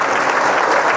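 A group of people clap loudly and continuously at a devotional gathering, a dense, close burst of applause lasting about a second.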